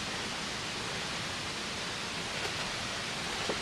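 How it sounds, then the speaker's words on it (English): Eight Mile River water falling through Devil's Hopyard: a continuous, even hiss of rushing water, soft and somewhat distant, steady throughout with no voices. "You can actually hear the water."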